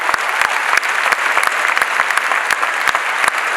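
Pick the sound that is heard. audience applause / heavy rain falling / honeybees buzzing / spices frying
audience applause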